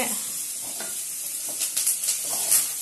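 Food being stirred in a kadai while cooking brinjal kulambu, with a steady bright sizzle under scattered scraping strokes of a spoon against the pan, fairly close and moderately loud, with no talking.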